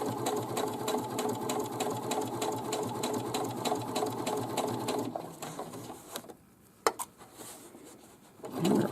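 Sewing machine stitching a drawstring bag casing through thick fabric, a rapid steady needle clatter close up that runs for several seconds, then stops, leaving a few light clicks and handling sounds.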